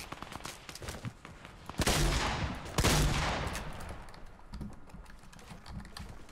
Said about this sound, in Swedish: Ja, jag skjuter upp.